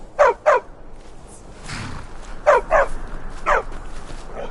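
A war dog in a PS4 video game barks in short paired bursts, three times in close succession, over a low steady background hum with a faint murmur in between.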